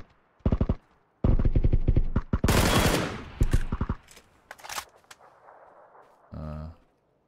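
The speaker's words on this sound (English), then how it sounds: "Shoot your gun in the air." Gun fired into the air in PUBG, several rapid bursts of automatic fire with sharp cracks and short gaps, loud and close, followed by a final brief burst.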